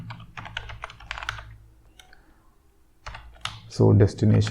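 Code is typed on a computer keyboard in quick bursts of clicking keystrokes, broken by a short pause, and a voice talks near the end.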